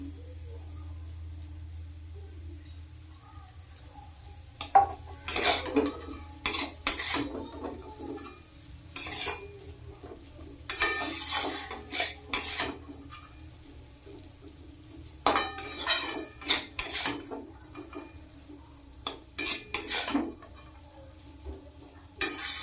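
Fried egg being stirred and tossed into chow mein in a pan, with repeated bursts of utensil scraping and clinking against the pan between quieter stretches of low background hum.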